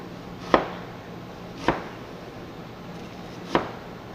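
Knife chopping through an onion on a cutting board, three separate sharp chops spaced about a second or two apart, close and fairly quiet with no talk.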